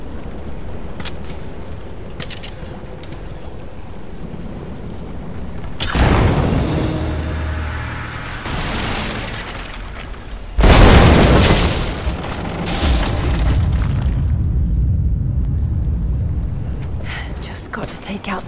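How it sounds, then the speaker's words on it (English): Greek fire blows up an unstable statue's supports in the video game Rise of the Tomb Raider, with two heavy booming blasts and rumbling debris over ambient game sound. "Looks like I'll have to use the Greek fire."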